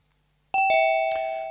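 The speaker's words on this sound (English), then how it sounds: "There's a ding dong, it joins." Zoom meeting join chime on a Dell laptop: a clear two-tone ding-dong, the first tone struck, the second ringing on and sustained, close and loud with no talk over it.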